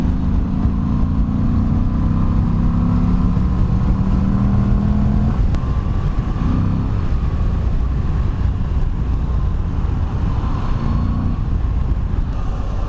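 A Moto Guzzi V85 TT motorcycle engine pulls steadily in fourth gear through a tight hairpin bend, its loud, smooth drone rising and falling as the throttle reopens, with wind rush throughout.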